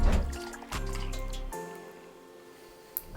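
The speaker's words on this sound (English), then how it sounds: "Now I'm gonna pour 2 ounces of coffee liqueur." Coffee liqueur poured over ice in a rocks glass, a close steady trickling stream with faint clinks, easing off and ending with a small drip and tap.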